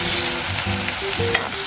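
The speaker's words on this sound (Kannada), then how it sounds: "ಎಣ್ಣೆದಾಗ ನಾ ಉಳ್ಳಾಗಡ್ಡಿ ಸಣ್ಣಗೆ ಹೆಚ್ಚಿಕೊಂಡಿನಿ ರೀ" Finely chopped onions fry in hot oil for street-style Mumbai pav bhaji, giving a loud, close, continuous sizzle with a few clinks and stirring scrapes and no voices.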